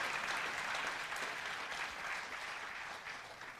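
Church congregation applauding steadily for several seconds, a dense, even clapping from many hands that fades slightly toward the end, with no talking over it.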